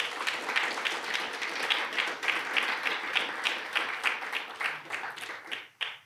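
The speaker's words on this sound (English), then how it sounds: "Can we have a huge round of applause for the committee?" Audience applause for an event committee at a sports panel, a dense crowd of clapping hands sustained at a steady level before thinning out and fading near the end.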